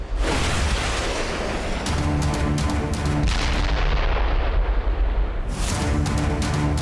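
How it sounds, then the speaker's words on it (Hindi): A heavy, booming explosion hits a fleeing car in Iraq's Anbar region, with roaring, crackling blast noise that fills the whole clip, loud and harsh. "एक कार भागी जा रही है और तभी एक जोरदार धमाका होता है"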